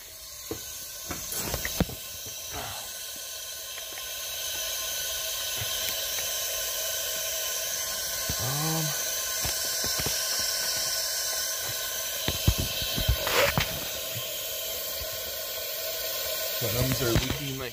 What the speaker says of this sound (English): Plenums are leaking like crazy.